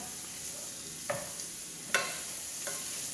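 Turkey sloppy joe meat is stirred in a hot pan with a utensil, giving a few scraping strokes over a faint steady sizzle, quiet and close, with no voices.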